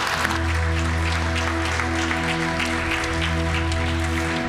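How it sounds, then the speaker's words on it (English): Church congregation applauding performers, a steady bed of clapping running throughout beneath sustained musical tones, with no talk. "Can we just give these guys a big round of applause?"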